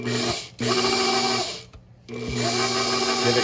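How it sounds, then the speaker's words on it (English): Electric stand mixer with a whisk attachment whirring through pancake batter, a steady high motor whine that cuts out briefly twice, then resumes, close and loud. "I'm just gonna use my whisk attachment"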